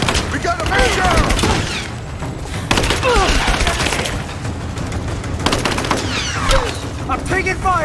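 Gunfire in Rise of the Tomb Raider, dense bursts of automatic shots and sharp cracks mixed with shouting voices and combat chatter, loud and continuous throughout.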